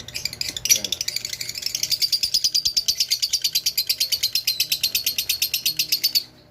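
Birds at a breeder's aviary give a fast, regular run of sharp, buzzy chirps, close and steady for several seconds before stopping abruptly, over faint low background noise.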